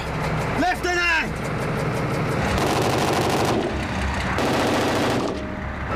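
A tank's turret gun fires during gunnery training, one heavy blast followed by bursts of rapid mechanical rattling and engine rumble, with shouted voices cutting in over the noise.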